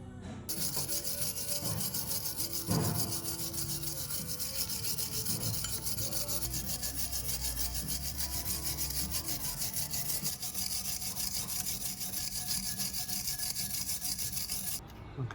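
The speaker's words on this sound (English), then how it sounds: "just a stainless steel wire brush finish, and that'll do me" A stainless steel wire brush scrubs over a freshly pickled stainless filter, a continuous close scratchy rasp with quick back-and-forth strokes running unbroken throughout.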